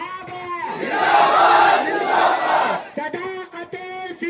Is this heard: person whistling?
no